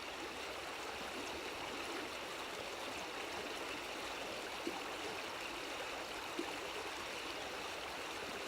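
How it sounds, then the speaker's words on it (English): A flowing river or stream, a steady, soft broadband rush of water heard alone with no voices, faint and continuous with a couple of tiny splashes. "There's something very special about rivers"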